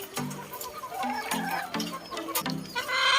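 A lame backyard chicken clucks repeatedly nearby in short, choppy bursts, with soft farmyard background noise.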